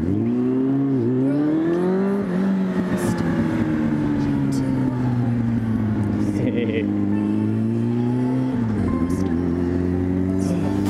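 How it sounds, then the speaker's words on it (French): A motorcycle is ridden and accelerates, giving a continuous engine drone that climbs in pitch, drops at shifts and climbs again, loud and close throughout with wind noise and a voice now and then. "ça fait vraiment du bien, hein, de refaire un peu de moto là"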